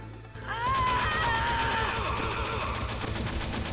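Gunfire in the Metal Gear Solid video game during a combat sequence, a sustained loud barrage of automatic shots with ringing tones layered over dense game noise.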